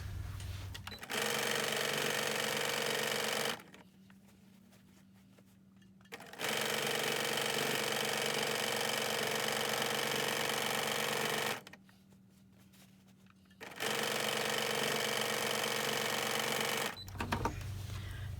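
A home sewing machine runs for free motion quilting in three long, fast, steady bursts of motor whir and needle chatter, separated by quiet pauses, close and loud.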